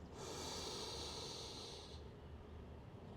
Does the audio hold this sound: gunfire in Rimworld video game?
no